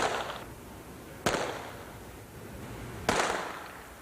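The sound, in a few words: gunshots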